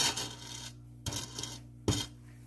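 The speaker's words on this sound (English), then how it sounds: "we 4 eggs in, we scrape them down before we add the last 2 eggs" Spatula scraping down the sides of a bowl of pound cake batter after four eggs have been added, a few separate short rasping strokes against a low steady mixer hum, no voices.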